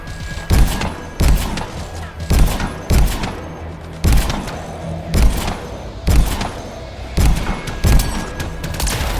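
Gunfire in the video game Anthem: repeated heavy bursts of shots in a regular rhythm, loud and booming, each roughly a second apart, with faint game sounds between them.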